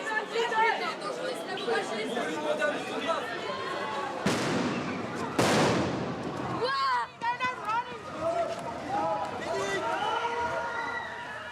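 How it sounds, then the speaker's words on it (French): Two loud sharp stun grenade blasts at a Paris street protest, sudden bangs a second apart cutting through crowd chatter, shouting and running, with voices talking throughout. "grenade de désencerclement, c'est mortel, une grenade de désencerclement"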